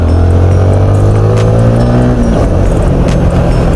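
A Yamaha Sniper 155R VVA motorcycle engine strains under load in 5th gear, with a loud, steady drone close to the rider that rises only slowly in pitch, and a slight dip partway through.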